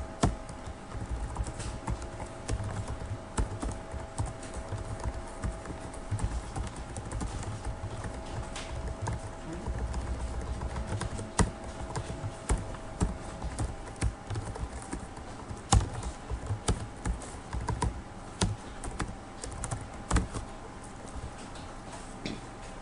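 Steady typing on a computer keyboard while HTML code is entered during a beginner web-coding lesson: a continuous run of soft, rapid key clicks with a few louder taps, quiet and close, no talking.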